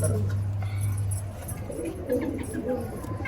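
Desi and fancy pet pigeons coo continuously in low murmuring tones, close by, with some light chirps and clinks in the background.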